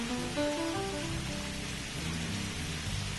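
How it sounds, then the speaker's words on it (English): Steady rain on a wet, rainy day, a continuous even hiss of falling raindrops with soft low rumbling underneath, no voices. "He liked listening to the sound of the raindrops."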